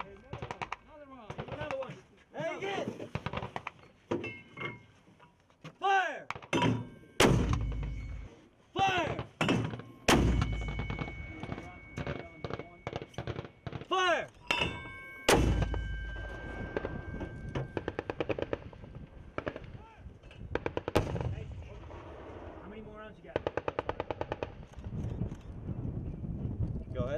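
120mm mortar rounds fired during a live fire exercise, loud close blasts at irregular intervals across the whole stretch, with voices shouting between the shots.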